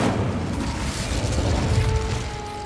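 An Incendio fire spell cast in Hogwarts Legacy on PS5 gives a dense, steady roaring whoosh of flame with a low booming rumble, loud and continuous for the whole stretch.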